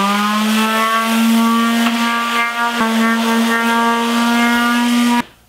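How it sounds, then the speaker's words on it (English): The edge and top of a flat-panel wooden trim frame are sanded with a steadily droning, humming sander, loud and close for about five seconds before it cuts off abruptly. "going to sand the edge of the frame, and I'm going to sand the top of the frame"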